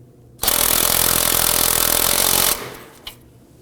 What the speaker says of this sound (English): Using a 19mm socket, you want to go ahead and snug this down.